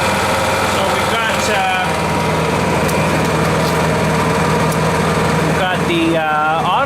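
Small engine running steadily at a low eco-throttle setting with a constant hum and harmonic drone, loud and close, with brief rising pitch sweeps and some talk over it.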